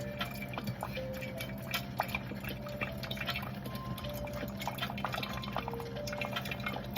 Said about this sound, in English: And then it'll be pouring the tea into the cup.